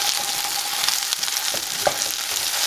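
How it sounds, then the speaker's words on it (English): Tofu pieces sizzle steadily in hot oil, a dense continuous frying hiss with a few soft scrapes and knocks as they are stirred, close and alone. "Continue cooking your tofu for 2 minutes. After 2 minutes, stir your tofu."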